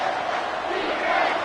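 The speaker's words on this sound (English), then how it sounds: "Decibels rising as the crowd gets behind this defense on third down." Football stadium crowd roaring for the home defense on third down at an Ole Miss college game, a dense, loud, steady wall of cheering that swells slightly.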